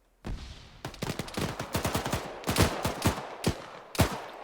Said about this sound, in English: Murphy and Nemesis exchanging fire